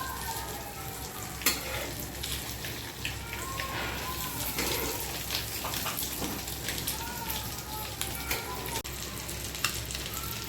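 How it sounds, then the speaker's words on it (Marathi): Boiled egg slices fry in masala on a hot tawa with a steady crackling sizzle, occasional louder pops and scraping as pieces are turned, and a voice speaking faintly underneath. "दोन्ही साईडून आपल्याला त्या मसाल्यांमध्ये छान भाजून घ्यायच्या आहेत।"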